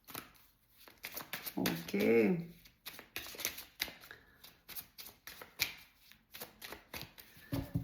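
Tarot cards are shuffled in quick, rapid bursts of papery riffling and flicking, close up and mixed with a person talking.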